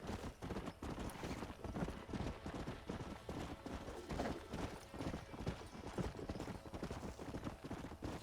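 Rapid, steady clip-clop of horse hooves in Red Dead Redemption, fairly loud and continuous over game ambience, with a faint whinny and occasional muttered talk beneath.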